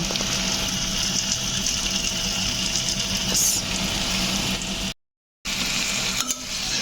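Pui shak cooking with a fish head in a pan as ghee goes in, giving a steady, fairly loud sizzle and bubbling hiss that breaks off briefly near the end, then resumes.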